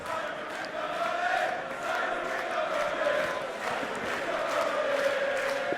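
A darts match crowd in an arena keeps up a continuous loud, chanting roar of many voices, steady and dense throughout without any clear break.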